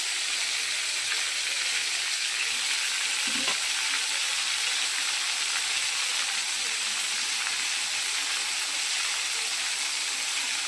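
Oil heating in a pan before spices go in for a prawn curry, giving a steady, even hiss and faint sizzle that runs the whole time with no talk.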